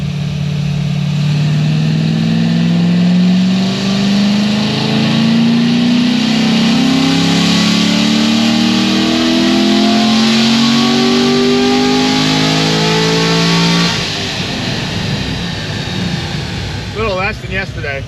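A modified Corvette Z06 engine revs hard and steady on a dyno, its pitch climbing over many seconds, then drops off into a rougher, lower rumble near the end.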